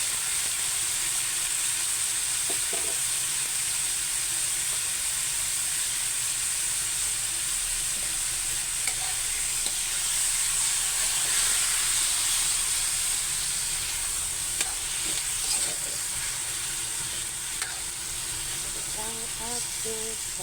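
Pork chops frying in a pan give a continuous bright sizzle and hiss, with occasional soft clinks and stirring noises near the end.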